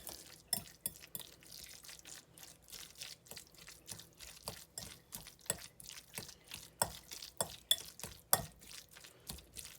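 A spoon stirs tuna salad with mayonnaise and spices in a bowl, making a steady run of soft, wet, rhythmic scrapes and knocks close by, with no voices.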